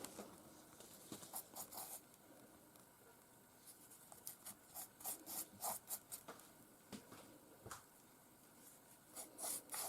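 Pepper and pork seasoning being rubbed onto pieces of meat by hand, a soft, steady rasping rub with repeated faint strokes, close and quiet with no talk.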